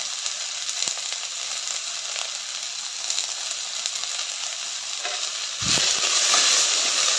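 Chopped onions and cluster beans fry in a pan with salt, giving a loud, continuous sizzle with scattered crackles and light stirring, then the frying swells louder toward the end.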